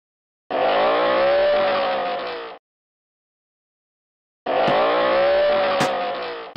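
An animated cartoon car drives through a Peppa Pig theme park ride in two loud, sustained engine bursts, each rising and revving for about two seconds and separated by a silent gap, heard close with no talking.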